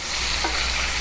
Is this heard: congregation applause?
no